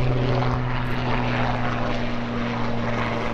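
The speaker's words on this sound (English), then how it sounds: "there just happens to be a helicopter flying over right now" A helicopter passes directly overhead outdoors beside a 2010 Ford Escape being fitted out for storm chasing, its steady loud rotor drone with a strong low hum filling the whole stretch with no talk.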